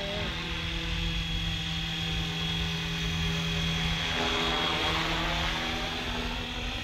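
A Flywing FW450L V3 RC helicopter flies nearby with a steady, loud whining rotor and motor drone that shifts pitch slightly partway through, continuous throughout.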